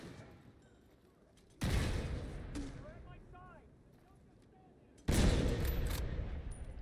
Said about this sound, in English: Can't believe I missed every one of those goddamn shots